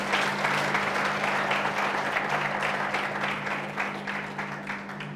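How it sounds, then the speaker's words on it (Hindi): A church congregation claps loudly and steadily for several seconds, a dense crowd applause that slowly tapers toward the end over a low hum. "सब जोर से ताली बजाएंगे प्रभु के लिए।"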